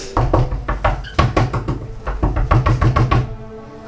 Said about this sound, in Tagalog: Cheska, pagbuksan mo ngayon pinto.